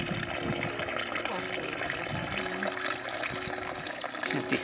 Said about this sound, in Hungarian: Tiszta vizecske foly.